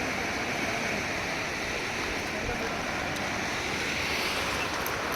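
Steady rushing water fills an irrigation canal, a continuous broadband flow with no breaks, loud and close, like a channel running full.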